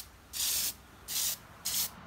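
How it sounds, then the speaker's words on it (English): Rust-Oleum rust reformer hisses from an aerosol can onto chrome pinball legs in three short, even bursts, close and clear, with quiet gaps between them. "And I purchased some Rust-Oleum rust reformer. And I've been taking and just spraying that"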